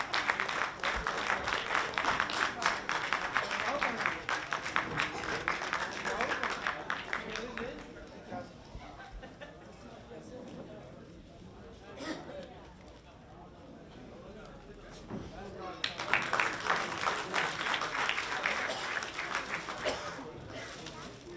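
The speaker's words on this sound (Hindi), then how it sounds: "एक जोरदार ताली से स्वागत करें।" Audience applause welcoming guests Pandit Ramesh Mallik and Pandit Indrakant Jha, a dense clapping crowd that thins to murmuring and talk in the middle before swelling again into loud sustained applause.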